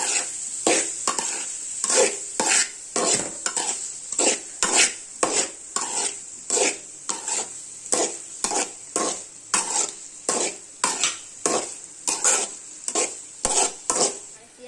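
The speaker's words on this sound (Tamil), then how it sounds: "அதை போட்டு நல்லா கிளறி வைக்கணும்." A spatula scrapes rhythmically through pumpkin stir fry (poriyal) in a pan, about two strokes per second, each stroke a crisp, close scrape over a faint sizzle with no voices.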